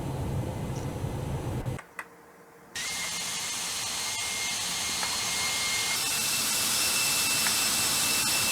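The APU of a ToLiss A319 airliner starts up in X-Plane 11, a steady loud whine that cuts out briefly and then returns as a continuous high-pitched whooshing hum that holds steady.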